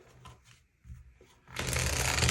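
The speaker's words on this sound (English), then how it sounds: "Let's get these cards shuffled." Tarot cards are shuffled up close, a few soft taps and riffles at first, then a loud continuous rapid riffle that fills the final second, with no talk over it.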